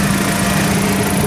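A 2009 Chevy Aveo engine idles steadily after a thermostat replacement, running to bleed air from the coolant, a continuous close, loud low hum with no talk.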